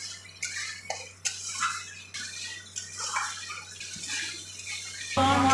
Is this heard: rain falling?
no